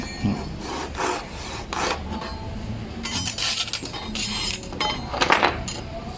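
The fine-toothed side of a Japanese pull saw flush-cuts a wooden tenon, giving light, repeated rasping strokes in an irregular rhythm, close and moderately loud, with no talking.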